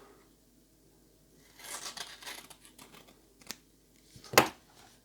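A print-and-play game card being trimmed with scissors produces soft, close snips and paper rustles, ending in one sharper cut, in an otherwise quiet room.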